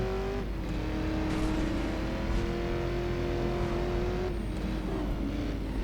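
A Ford car in the driving game Driver San Francisco revs hard through its gears, a steady loud engine drone with a pitch shift as it shifts and accelerates through city streets.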